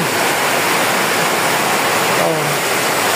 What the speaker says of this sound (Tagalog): lakas ng buhos ng ulan. So, narinig yung bagas-bas ng bubong.